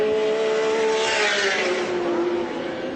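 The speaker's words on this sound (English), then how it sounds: "And there's the Slick 50 car of Peter McLeod." Peter McLeod's Slick 50 touring car races at Lakeside in the 1984 Australian Touring Car Championship, its engine a loud, steady high whine that drifts slightly in pitch as it passes and fades a little.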